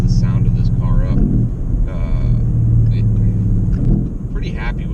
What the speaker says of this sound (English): I'm surprised at how much just getting rid of the mufflers really livens the sound of this car up